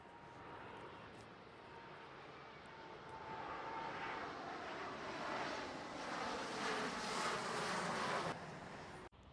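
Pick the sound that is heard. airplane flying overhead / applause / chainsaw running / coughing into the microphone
airplane flying overhead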